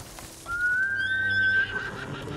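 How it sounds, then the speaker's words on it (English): A horse whinnies in the video game Ghost of Tsushima, one loud, near, drawn-out neigh of about a second that rises and then trails off over a faint background. "Let's say we'll call our horse back."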